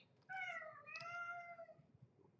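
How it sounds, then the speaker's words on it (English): A pet cat meows close by in one drawn-out, whining call with a slight dip and rise in the middle, alone over a quiet room background. "Can y'all hear my cat?"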